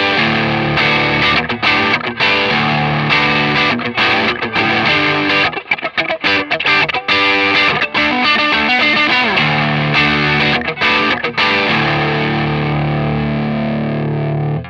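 Loud, heavily distorted electric guitar through a Digitech Hardwired valve distortion pedal in saturated mode, playing thick chords and riffs continuously, with a saturated, fuzzy tone and brief choppy pauses.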